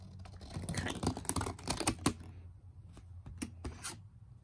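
Scissors cut a swirly marker line through paper, giving a dense run of crisp snipping and rustling that thins into a few separate clicks toward the end, close up with no talking.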